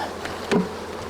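Package honeybees are shaken out of their shipping box into a hive. A steady close buzzing swarm fills the clip, with one dull thump in the middle.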